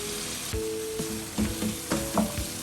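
Spices for achari chicken gosht are stirred into chicken frying in ghee, a continuous sizzle punctuated by several distinct spoon scrapes and clatters against the pot.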